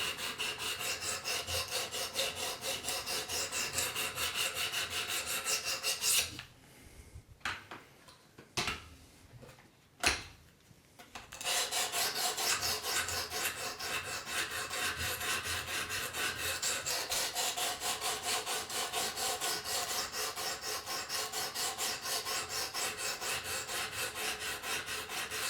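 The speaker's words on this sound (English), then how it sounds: "you're going to use it on your good knives, and you're going to have to grind" A knife bevel is ground on a Work Sharp Pro Precision Adjust sharpener, giving a fast, even rasping of strokes that runs close and steady, broken by a brief pause midway.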